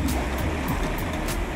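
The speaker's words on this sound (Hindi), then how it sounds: "ये इतना तेज पानी है" Fast-flowing river water in the Skardu mountains rushes as a steady, dense broadband roar, close and continuous with no pauses and no voices.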